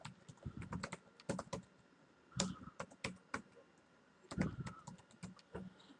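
Typing on a computer keyboard while laying out a business card, with bursts of close, crisp key clicks separated by brief pauses, alone without voices.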